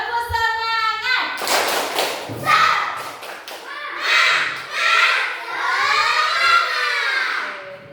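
A class of children repeats the tepuk semangat clapping chant, a loud, close run of rhythmic claps and thuds mixed with shouted group chanting, preceded by a teacher's voice.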